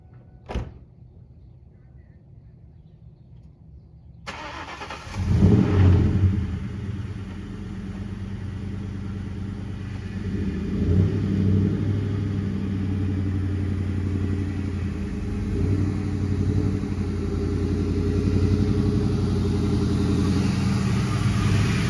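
A Ford Mustang GT fires up after a near-silent stretch, its engine settling into a steady, rumbling idle and then pulling into a driveway, with the low throttle swells rising and falling close by.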